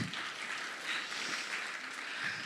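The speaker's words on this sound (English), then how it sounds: "please give another round of applause" An audience claps steadily throughout at an arangetram, a classical dance debut recital, a dense and even patter of many hands with no talking.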